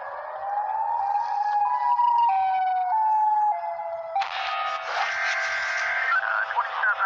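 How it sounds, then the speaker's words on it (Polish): Wailing electronic siren sweeping up and down in stepped tones, loud and steady throughout, then shifting to a harsher, brighter pattern partway through, with no talk. "Ale szybki jest ten cały syrena."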